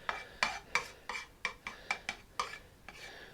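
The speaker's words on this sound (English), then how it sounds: "let's just spread that oil around so it's even" Oil being spread around a frying pan before gyoza go in: a series of about ten short scraping or clinking strokes on the pan, each roughly a third of a second apart, close up and moderately quiet, with no talking.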